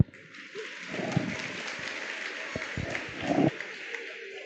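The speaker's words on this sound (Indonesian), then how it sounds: "kita kasih tepuk tangan." Applause from an audience at a campus student orientation session in a hall, broad and moderate, filling most of the clip, with some voices underneath and a brief louder swell near the end.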